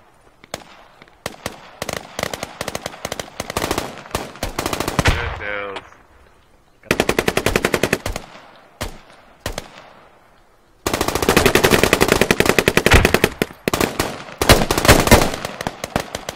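Automatic weapons fire in the video game Squad in dense, rapid bursts, some close and loud, others more distant, separated by short pauses, with occasional voices in the background.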